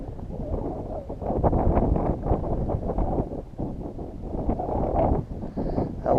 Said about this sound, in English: Got my kayak pointed into the wind, just pedaling a little bit